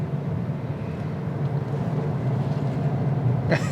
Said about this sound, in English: Here the tires whirring a little bit because I'm sure the tires might be different on the hybrids